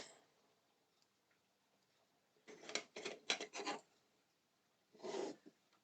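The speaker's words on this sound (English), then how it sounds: "I'm securing it in with these G screws." Small screws are driven into a 1:8 scale 1969 Mk 1 Ford Mustang model, heard as a quick cluster of soft, close rasping turns followed by one more short burst after a pause, in an otherwise quiet room.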